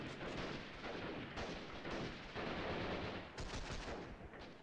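Loud, dense gunfire from the video game Freeman: Guerrilla Warfare, with overlapping rapid bursts and volleys that run almost continuously and swell and drop in short waves.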